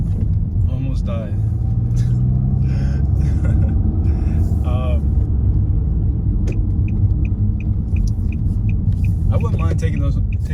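A 2018 Nissan Maxima engine revs and pulls hard under full throttle, a loud, continuous rumble heard from inside the car, with a voice talking over it.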